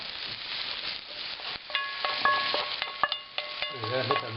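Caponata vegetables sizzle in a pan as a spoon stirs and scrapes them, with irregular clinks and scrapes over a steady bright hiss, close and fairly loud.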